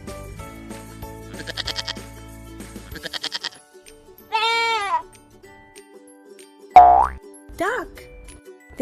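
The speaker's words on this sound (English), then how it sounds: "Goat says bleat." A goat bleats several times in wavering, quavering cries, separated by short pauses, with a springy boing near the end.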